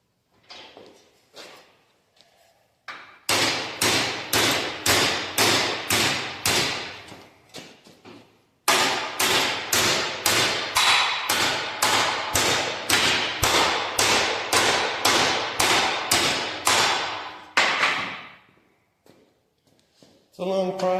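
Metal being hammered by hand while making a cab corner mount in a windy workshop: rapid, loud, evenly spaced blows in two long runs of about twenty strikes each, close to the microphone, with no talking.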